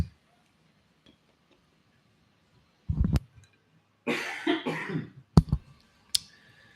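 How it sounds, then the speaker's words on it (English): A person coughs a few times in a quiet room, short sharp bursts spread over several seconds with clicks and a little throat noise between them, close and clear. "Did you just cough?"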